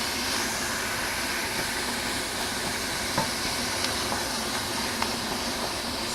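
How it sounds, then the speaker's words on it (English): Ground meat sizzles steadily in a hot pan for spaghetti as it is broken apart, a constant crackling hiss broken by a few soft scrapes and taps from a utensil. "Go ahead and break up my meat."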